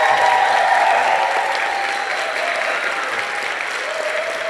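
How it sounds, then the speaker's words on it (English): Loud, full round of applause from the crowd at a public service awards ceremony, dense and sustained, easing a little after the first second, with a faint tonal hum beneath. "if we can get the loudest round of applause for all of our recipients"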